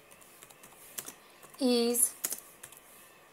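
Rapid light key clicks from typing on a computer keyboard during a basic computer lesson, scattered evenly throughout, with a brief stretch of talking in the middle.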